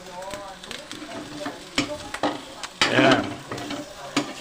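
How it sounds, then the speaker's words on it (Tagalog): Chopped meat crackling and popping as it fries in its own rendered fat for dinuguan, with sharp bursts over a steady sizzle, loudest midway, and a brief voice speaking at the start. "Ayan yung gusto natin marinig, yung medyo puputok-putok konti."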